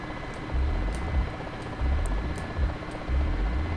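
Guns firing from a Mi-8 helicopter in the DCS flight simulator come as three sustained bursts of deep, rumbling low-end fire with a steady background drone between them.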